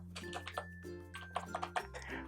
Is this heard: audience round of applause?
no